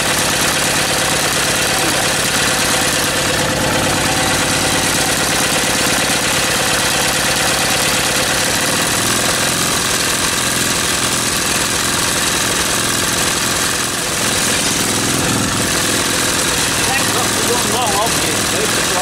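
An old stationary engine, running with spacers fitted and a slightly leaking inlet valve, chugs loudly and steadily at close range with a rapid knocking beat, and someone talks over it.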